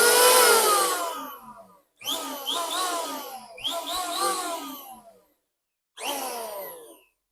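A Dongcheng electric power planer is tested indoors at night in three loud whining bursts, each spinning up then winding down, with short silent gaps between them.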